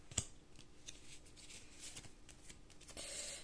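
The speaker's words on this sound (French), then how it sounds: "Alors j'essaye de remettre des cartes en place." Oracle cards being handled and shuffled by hand, soft papery riffles and flicks spread across a few seconds, close and quiet with no talk.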